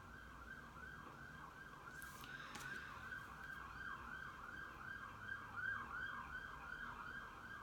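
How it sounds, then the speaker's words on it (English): Wailing emergency vehicle siren cycling steadily and evenly for several seconds at a moderate distance, with faint traffic rumble underneath and a brief clatter partway through. "Hear the sirens."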